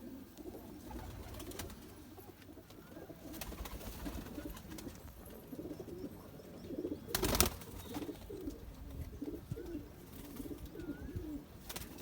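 Pigeons coo softly in a low, repeated murmur, with occasional rustles and one brief sharp noise partway through, all fairly faint and close.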